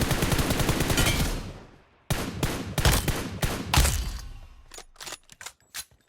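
Gunfire in the mobile battle royale game PUBG Mobile: a sustained automatic burst that fades, then a cluster of sharp shots followed by sparser single cracks, loud and close.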